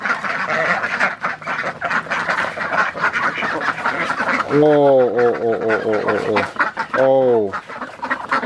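Ducks at a duck pen, several loud, close nasal quacks in rapid bursts over a busy backdrop of other fowl and chickens clucking, with people talking throughout.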